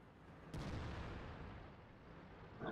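Artillery fire in a video game, a single deep boom that opens sharply and then rolls on in a long, fading rumble, with another burst starting at the very end.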